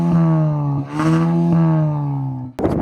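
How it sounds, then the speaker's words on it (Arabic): A car engine drones with a steady harmonic hum that swells twice in quick revs, then ends in an abrupt, noisy burst; no one speaks. "واسمعوا صوت العربيه كده"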